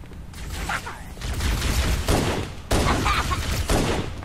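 A plasma pistol fires repeatedly in Halo: Combat Evolved Anniversary, loud sizzling energy shots in quick clusters amid game combat noise, with no talking.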